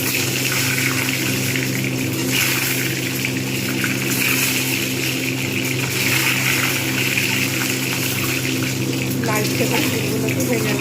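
Duck eggs frying in hot oil in a home kitchen pan for a duck egg curry, giving a steady, continuous sizzle and crackle at even loudness throughout, with no talking.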